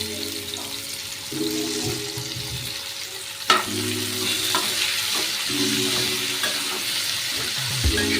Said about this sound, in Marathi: कडक आतेवरती भाजून घ्यायचं आहे गॅस हाय करायचा आहे म्हणजे कडक फ्राय होतील मस्त